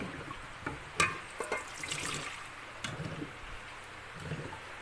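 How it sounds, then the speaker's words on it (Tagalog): Water, about three glasses, is poured into a pot for banaba leaf tea, splashing and trickling with a few clinks and knocks, moderately close, with no talking. "ato alang siyang butangan og tubig, mga tulo ka baso nga tubig"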